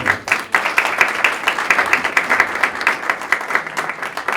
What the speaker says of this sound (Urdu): اسی یسوع کے لیے زوردار تالیاں۔